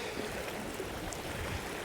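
River on Dartmoor at a wild camp site giving a steady, even rushing flow with no breaks, close and continuous, without any voices.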